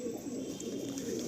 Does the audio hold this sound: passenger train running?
no